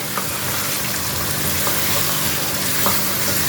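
About 1.5 kilograms of chicken is stirred into sizzling masala for Lahori murgh cholay, with a steady close frying hiss and soft scraping throughout and no voices.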